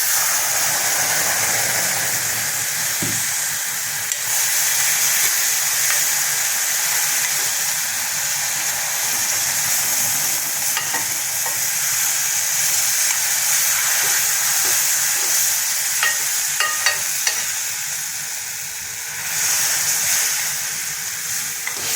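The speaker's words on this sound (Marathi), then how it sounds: "असा तो छान भाजला गेला की मग याच्यात हे उकळतं पाणी आपण टाकू." Boiling water poured in stages into roasted almond sheera in a hot pan, giving a steady loud sizzle and hiss with steam and occasional stirring scrapes, no talk.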